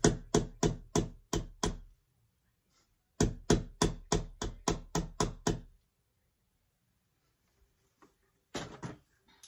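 Hammering during home organizing: two quick runs of about six and ten sharp, evenly spaced knocks, close and loud, separated by a pause, then a short cluster of a few more blows after a quiet stretch.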